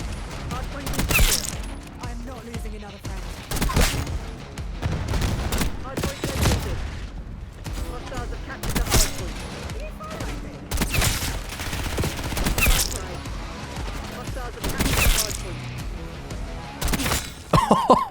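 Black Ops 6 gunfire crackles in repeated bursts of sharp shots and impacts spread over the whole stretch, some rapid and clustered, others single, at moderate loudness.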